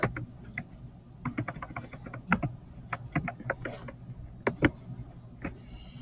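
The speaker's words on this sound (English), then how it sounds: "If you guys could open up your Chromebooks and type this in your document." Students type on Chromebook keyboards in a classroom, giving scattered, irregular key clicks and short flurries of tapping at moderate distance, with a little faint background chatter.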